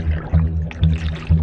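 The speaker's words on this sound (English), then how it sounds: "As the water surges over the windscreen" Water surging over the windscreen and into a sinking car during an escape drill, a loud churning, gushing rush that swells and falls in close waves.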